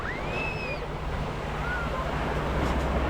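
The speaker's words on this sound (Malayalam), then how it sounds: "കടലിൻ്റെ ആ ഒരു ആർത്തിരമ്പുന്ന ശബ്ദങ്ങൾ നമുക്ക് കേൾക്കാവുന്നതാണ്" Roaring sea surf at Kappad beach in Kozhikode rushes steadily and loud throughout, with wind noise over it and faint high chirps drifting above.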